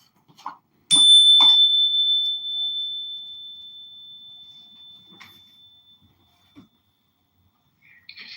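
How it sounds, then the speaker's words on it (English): A single high-pitched electronic beep, a pure steady tone that starts sharply and holds for several seconds while slowly fading, with faint scattered sounds before it and after it. "Is that frequency beep at the end?"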